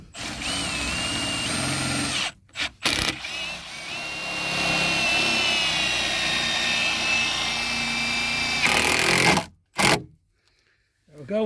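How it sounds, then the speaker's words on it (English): A power drill driving screws in, with long whining runs broken by short pauses and quick bursts, and someone speaking between the bursts. "I'll put another couple of screws in."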